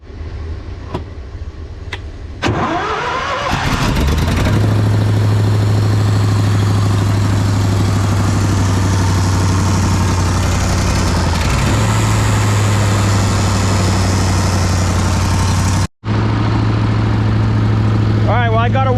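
A Briggs & Stratton engine starts after a few knocks and runs steadily, warming up at a loud constant drone that briefly cuts out near the end, with a voice heard at the start.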